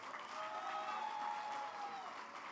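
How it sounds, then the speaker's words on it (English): Steady applause from an outdoor crowd at a traditional Diwali ceremony, a dense wash of clapping that holds evenly throughout at moderate distance, with a faint sustained tone running underneath. "please join me and give them a big round of applause"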